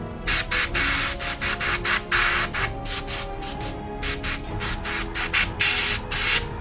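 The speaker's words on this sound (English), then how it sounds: "I'm going to use it with the airbrush" An airbrush sprays paint onto a miniature base in short repeated bursts, each a sharp airy hiss starting and stopping in quick irregular rhythm, close by, over a faint background hum.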